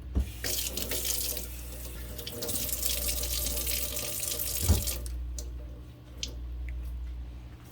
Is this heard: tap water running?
yes